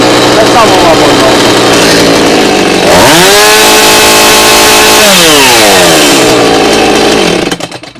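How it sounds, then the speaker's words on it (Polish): A Husqvarna 445 or 450 chainsaw engine roars loudly and steadily, its pitch dropping and then climbing back as the throttle changes, resonating at full throttle, with speech faintly underneath. "Na pełnym gazie wyraźnie słychać, jak pilarka wchodzi w rezonans"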